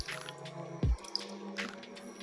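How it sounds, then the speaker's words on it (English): Dried snow fungus dropped into boiled water in a pot, one brief low splash and plop standing out over a steady kitchen hum, with no voices. "So now the water is boiled, I'm going to put in the snow fungus now"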